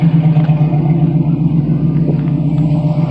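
A car with an LS engine swap, a 5.3 V8 in a G-body, idles and drives nearby in Las Vegas. Its steady low rumble holds throughout with faint clatter on top, close and loud, and no talking.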